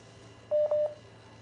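Two short telephone dialing tones, one right after the other, sound faintly and alone from a phone handling incoming calls.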